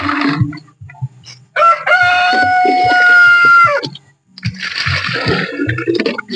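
Rooster crowing loudly and close in a long drawn-out call, with chickens clucking in short bursts before and after, nearby backyard poultry, no talking.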